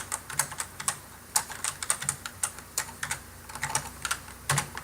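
Someone types on a computer keyboard in quick, irregular runs of soft, close keystroke clicks with brief pauses, and no one talks.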